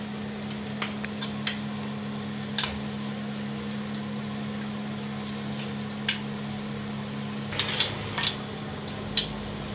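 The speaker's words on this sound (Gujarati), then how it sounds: "તો થોડું થોડું આપણે આને ફ્રાય કરવાનું છે" Almonds, pistachios and cashews frying in a pan for sabudana kheer, with a steady soft sizzle, occasional light clinks of a utensil against the pan, and no talking.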